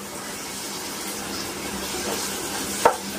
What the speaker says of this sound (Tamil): இஞ்சி பூண்டு பேஸ்ட் போட்டு வதக்கினுக்கிறேன்